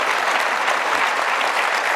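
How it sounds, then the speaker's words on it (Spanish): A church congregation applauds the fathers at a Father's Day morning service, a loud, dense, continuous burst of clapping from many hands with no voices over it. "Un fuerte aplauso a todos los padres esta mañana."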